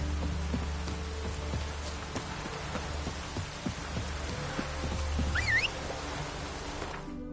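Rain falls steadily in The Witcher 3: Wild Hunt, a dense patter of drops on surfaces with a low rumble beneath and a brief chirping sound near the end.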